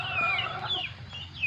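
Chickens cluck, and a rooster's crow-like calls rise and fall, moderately close, with no talk over them.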